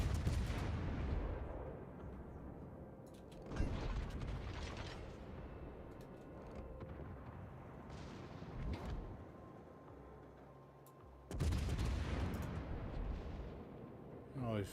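Battleship guns fire in the naval combat game World of Warships, deep booming salvos repeating every few seconds, each followed by a rumbling decay under low background noise.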